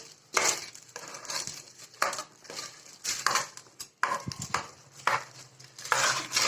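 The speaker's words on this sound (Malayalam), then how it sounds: "ടേസ്റ്റിന് വേണ്ടിയിട്ട് ഉപ്പ് ചേർത്ത് കൊടുക്കാം. എന്നിട്ട് നന്നായിട്ട് മിക്സ് ചെയ്യാം." Ven pongal being mixed in a pot after salt is added, with bursts of spoon scraping and clattering against the pot, separated by short pauses, fairly close.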